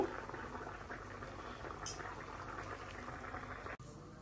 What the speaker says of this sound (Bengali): আবার এটা ডাল ভুনা করছি।